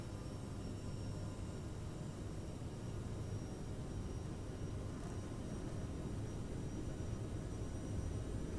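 Twin jet engines of an Aerosoft CRJ-700 in American Eagle livery spool up to takeoff thrust in Microsoft Flight Simulator, departing San Diego, as a steady broadband roar with a faint high whine that builds slightly toward the end.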